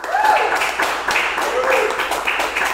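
A studio audience applauds a guest being welcomed onto a talk show, a steady patter of clapping that holds for a few seconds with a faint tonal sound running beneath it.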